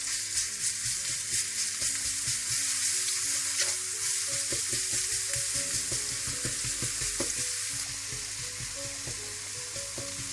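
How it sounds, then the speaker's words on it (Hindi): Crushed garlic fries in hot oil with a busy, steady sizzle, while a utensil clicks and scrapes in an irregular rhythm as it is stirred. The sound is close, moderately loud and without speech. "सबसे पहले आप तेल गरम कर लें। इसमें आप कुटा हुआ लहसुन डाल दें।"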